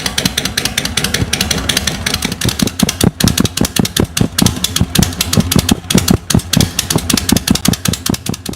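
An engine with newly installed exhaust resonator baffles runs loud and close, its rumbling idle broken by quick, rhythmic pulses and occasional revs throughout.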